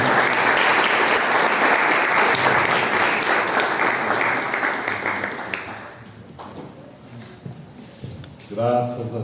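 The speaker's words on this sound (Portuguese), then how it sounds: "Aplauda o Senhor." A church congregation applauding together in a dense, loud burst of clapping that fades after a few seconds into scattered claps and murmuring voices, with a brief swell of sound near the end.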